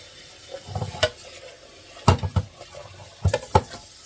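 Cultured butter being washed in cold water, with intermittent splashing, sloshing and stirring sounds coming in short bursts at close range, separated by quieter pauses.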